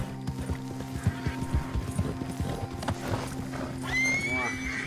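A horse in the video game Red Dead Redemption 2 Online runs with rhythmic clip-clop hoofbeats and then gives a high, rising whinny near the end. Background game sounds sit under it.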